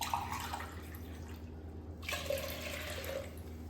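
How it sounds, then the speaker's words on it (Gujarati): Water poured into a pressure cooker holding masoor lentils, a steady running splash with a brief pause midway before the pour resumes; moderate level, no voices. "મસૂર હવે આપણે એમાં પાણી લઈ લઈશું મસૂરને બાફવા માટે."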